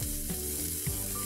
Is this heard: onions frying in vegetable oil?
yes